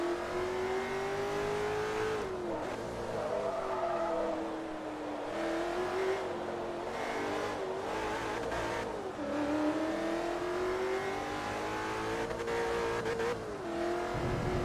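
A Koenigsegg races in the Forza Motorsport 3 video game, its engine droning loudly and continuously with rising revs and repeated gear-shift dips, plus occasional tire noise.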